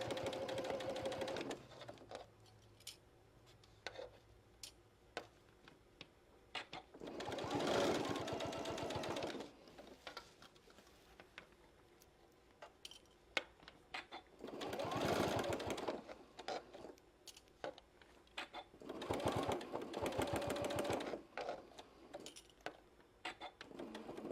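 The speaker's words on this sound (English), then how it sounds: "we're just going to go ahead and top stitch all the way around" A sewing machine top stitches around the edge of a fabric casserole cozy in three long, fast, rattling bursts, separated by quiet pauses in which the fabric is handled and soft talk is heard.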